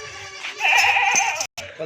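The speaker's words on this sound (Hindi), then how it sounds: "खूबसूरत माशाल्लाह बड़ी भारी वजन वाली बकरी है।" A heavy pregnant goat bleats once, a close, wavering cry of about a second, with someone talking around it.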